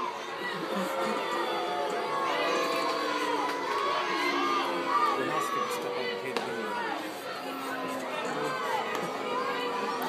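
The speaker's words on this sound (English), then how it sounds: "Why are they booing?" Baseball crowd at a Mudcats minor-league game booing an intentional walk, a loud, sustained wash of voices and shouts filling the ballpark throughout with no letup.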